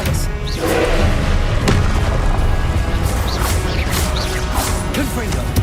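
The Expelliarmus disarming spell cast in Hogwarts Legacy, loud whooshing magic blasts, booms and crashes layered with game sounds, dense and continuous, with a voice speaking over it.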